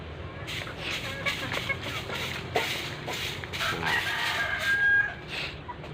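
Hens cluck close by and a rooster crows over a busy farmyard, several birds calling at once amid background chatter and movement.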